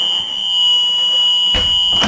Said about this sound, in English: you should have an alarm that sounds